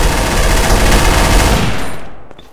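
A Trouble in Terrorist Town turret sprays sustained machine-gun fire, loud and close, in an unbroken rapid stream that cuts off and decays into near silence at the end.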